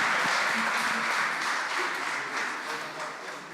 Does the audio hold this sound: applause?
yes